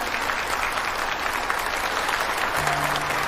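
Dense, sustained applause from an audience welcoming a company vice president on stage at a phone launch event, steady crackling claps with no pauses, a faint low tone entering near the end.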